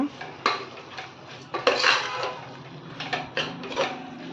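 Paneer fried in masala in a pan for Ambur biryani: repeated metal spoon scrapes and clanks against the pan in irregular bursts, close and fairly loud.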